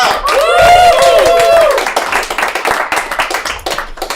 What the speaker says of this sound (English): Give a round of applause for our next comedian